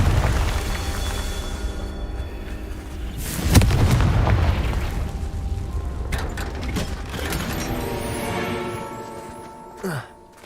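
A Confringo spell goes off in the Hogwarts Legacy video game, a loud blast at about three and a half seconds, with a sustained rumbling spell effect and a short sharp burst near the end.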